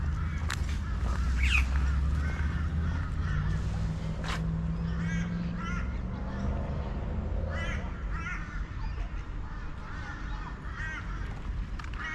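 Birds at a small parkland lake being fed by people, crows cawing repeatedly along with honking waterfowl over a steady outdoor rumble, at mid distance and moderately loud.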